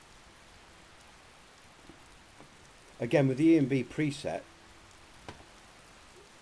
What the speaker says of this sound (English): oh, here's some rain